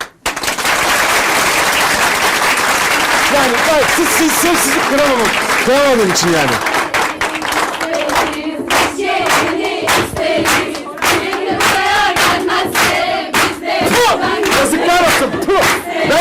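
Crowd cheering, whooping and clapping to urge a dancer on at a lively Turkish gathering, loud and continuous, with rhythmic claps growing sharper toward the end and someone talking over the noise.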